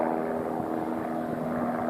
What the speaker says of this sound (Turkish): Yukarıda da bir tane çekim yapan helikopter görüyoruz.